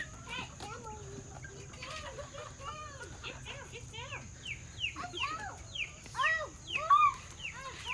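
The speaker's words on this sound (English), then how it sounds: "It's like a chicken playground in here." Backyard chickens in an urban coop run cluck and give short rising calls, with several birds nearby and the calls growing busier and louder toward the end, over a low background murmur.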